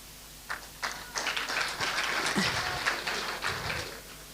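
Applause for a county team at a youth summit in a university hall, scattered claps building into a steady round of clapping from a crowd, moderately loud with no talk over it.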